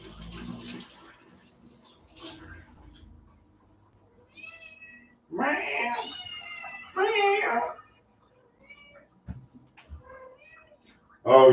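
A cat meows in several separate, close calls, two of them long and loud, between quieter moments with faint clinks and a little water noise.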